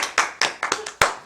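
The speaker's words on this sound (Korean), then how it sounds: "박수 한번 치셔요." Audience members at a Buddhist doctrine lecture clap briefly, a handful of distinct sharp claps in an uneven rhythm, close and clear with no talking.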